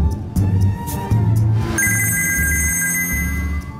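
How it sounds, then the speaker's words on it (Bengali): An electronic telephone ringtone trills loud and close in a household scene, repeating steady tones over a low musical background with no speech. "ফোনটা তোলো বাবা।"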